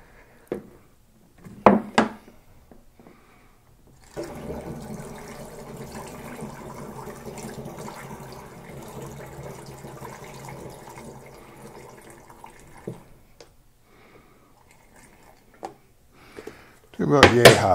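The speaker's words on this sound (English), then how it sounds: "add in the rest of our water." Water poured steadily into a container while making traditional mead, a sustained broadband wash lasting about nine seconds between brief knocks and handling clatter, with a louder clunk at the end.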